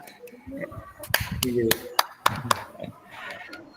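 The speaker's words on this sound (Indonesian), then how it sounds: "Terima kasih, aplaus untuk Kak Ahmad." Applause for a participant in an online video meeting: a few scattered, thin claps and taps from one or two people, close and uneven, mixed with a speaking voice throughout.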